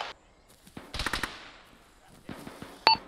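Distant gunfire from the south aimed at a squad, a few scattered cracks and a short burst amid faint background noise, with one sharp nearer report near the end.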